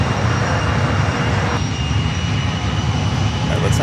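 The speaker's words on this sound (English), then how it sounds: "We do have a Sky West CRJ rolling down to one right." A SkyWest CRJ regional jet rolls for takeoff on runway 1 right at San Francisco International Airport, a steady broadband jet roar with a continuous engine whine, heard from a distance.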